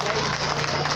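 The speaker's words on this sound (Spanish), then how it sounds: "¡Fuerte el aplauso, venga! ¡Que se escuche ese aplauso!" An audience at a wedding celebration applauds in a dense, continuous wash of clapping that stays even and fairly loud throughout.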